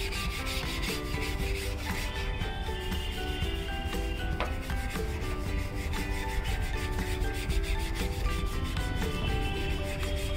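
Steady close-up rubbing of homemade rust remover onto rusty chrome by hand, a continuous scrubbing scrape that runs without pause for the whole stretch, with no talking.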